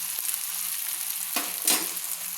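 Spices fry in hot oil in a pan as coriander powder goes in, a steady close hiss broken by two brief bursts of sharper sizzle or stirring scrapes.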